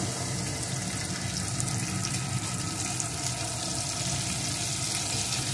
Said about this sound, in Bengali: এটাকেও ভালো করে একটু ভেজে নেব।